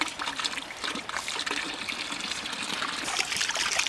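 Water trickles steadily through a field, a soft continuous babble with faint splashes, fairly quiet and unbroken.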